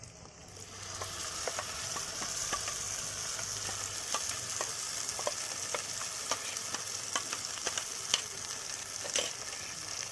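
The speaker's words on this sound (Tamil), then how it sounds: "நம்ம அரைச்சின்னு வந்த மசாலாவை வந்து இது கூட ஊற்றி நல்லா வதக்கிக்கலாம்" Ground masala paste sautéing in hot oil with softened onions for an egg gravy. It makes a steady, close sizzle full of fine crackles and pops that runs the whole time, with no voices.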